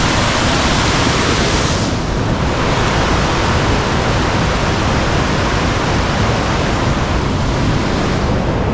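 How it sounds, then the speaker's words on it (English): Cwmorthin waterfall in Wales roars as a steady, loud, dense wash of falling water, constant and close throughout with no voices. "There's part of the waterfall."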